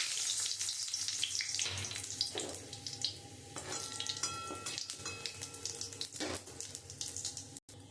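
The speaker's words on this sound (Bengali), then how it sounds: "জিরে ফোড়ন দিয়ে দেবো।" Cumin seeds, bay leaves and whole garam masala tempering in hot oil in a kadai, a steady close sizzle and crackle with occasional stirring clinks, no talking.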